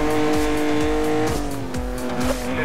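A Lamborghini in the racing game Need for Speed Most Wanted 2012 howls loudly at high revs while its tires squeal in a sustained, piercing screech, with the engine pitch dipping briefly and climbing again.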